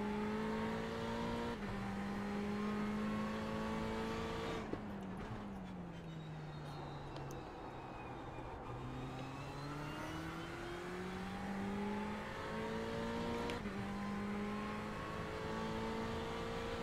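A race car accelerating out of the pit lane during a Daytona 24 Hours test session, its engine climbing through rising tones with several sharp gear changes, steady and prominent throughout.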